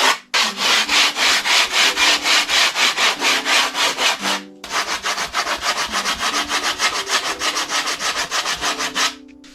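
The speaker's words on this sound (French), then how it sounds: "venez poncer comme ça. Juste histoire que ce soit à peu près plat." Rough sanding of a cut wooden floor panel for a Renault Trafic van: loud, fast back-and-forth abrasive strokes in a steady rhythm, briefly pausing midway before resuming, close and with no talking.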